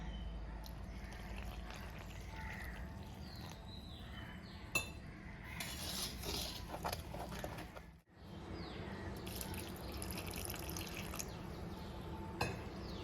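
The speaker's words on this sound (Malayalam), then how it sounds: "ഇനി ഇതിലേക്ക് നമുക്ക് കുറേശ്ശെ വെള്ളം ചേർത്ത് കൊടുക്കാം" Water trickles steadily into a bowl of wheat flour for a Kerala-style wheat dosa batter, with soft drips, light clinks of a utensil and a brief pause midway.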